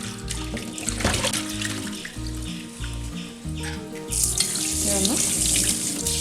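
A clay pot being washed under a running kitchen tap, water splashing and streaming against the pot with scrubbing shifts, close and continuous while someone speaks briefly.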